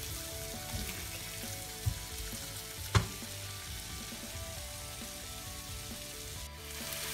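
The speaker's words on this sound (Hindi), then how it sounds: "इस मसाले को मैंने अच्छी तरह भून लेना है" Masala frying in a pan gives off a steady, close sizzle that runs throughout, broken once by a sharp utensil knock near the middle; no one speaks.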